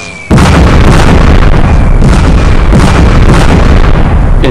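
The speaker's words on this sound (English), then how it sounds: "We began with a bombardment with our light tanks and field artillery to soften up the defenders" Light tank guns and field artillery pound defenders on a hill in the 1942 Battle of Bukit Chandu, with loud, close explosions and heavy booms that overlap in a dense, unbroken barrage after a brief quiet start.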